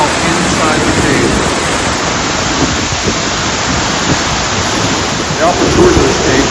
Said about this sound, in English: There's a waterfall inside the cave.